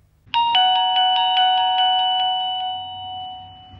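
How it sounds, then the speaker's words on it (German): A video doorbell's indoor receiver plays a bright electronic chime, loud and close, a quick run of bell-like tones that then sustain and slowly fade, with no voices. "der Empfänger der Klingel, der bei euch zu Hause im Haus ist"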